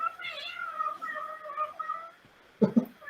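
A pet cat meows indoors near a computer, two short close meows near the end after a stretch of quieter voice-like tones, with people on a call talking around it.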